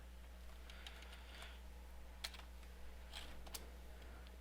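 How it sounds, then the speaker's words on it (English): Computer keyboard keys pressed while editing, including the backspace key, giving a few faint scattered clicks over a low steady electrical hum. "I'm deleting the character by highlighting his whole body and clicking backspace"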